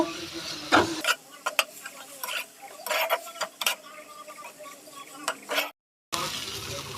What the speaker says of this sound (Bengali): আমি এখন মশলাগুলো ভালো করে কষিয়ে নেব